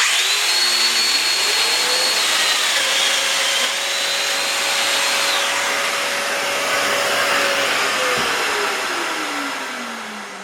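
A Festool Domino joiner cuts a hole in wood while building bed boxes; its motor runs with a loud, whining power-tool roar and pitch shifts as it plunges and cuts, then winds down at the end.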